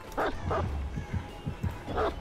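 A dog barks in the Dead by Daylight horror game, with a few short, sharp barks spaced apart over a steady low rumble of game ambience.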